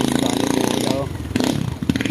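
A heavily loaded motorcycle near a parking area at Navotas Fishport runs with a steady, throbbing engine rumble close by, while people talk over it.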